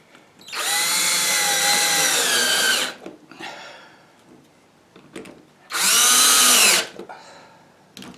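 A power drill driving 10 by 1 1/4 wood screws into timber during a wood lathe repair, two loud, close bursts of whining motor, each a couple of seconds long, separated by quieter handling noises.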